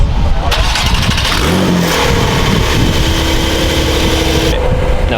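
A Porsche 911 Turbo at a Porsche car show revs its engine loudly up close, a rising mechanical roar with a sustained tone, amid crowd noise.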